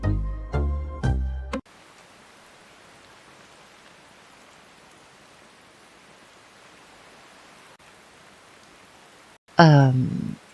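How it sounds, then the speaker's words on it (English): A steady, soft hiss of heavy rain fills the middle stretch, with brief voices and sounds breaking in at the start and end. "We turn on some heavy rain."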